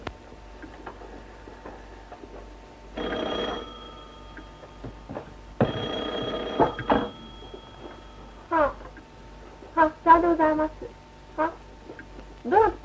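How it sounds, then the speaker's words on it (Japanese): An old telephone bell rings indoors in a 1937 Japanese film scene, two sustained ringing bursts a couple of seconds apart, fairly faint, followed by soft talk and room sounds. "ひろこさん、お電話。"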